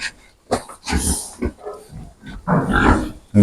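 Pigs grunt and snuffle close by in a series of irregular, throaty bursts, with a louder run of grunts toward the end.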